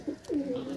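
A Dhille pigeon kept for sale gives a soft, low coo in two short rolling phrases, heard close and alone.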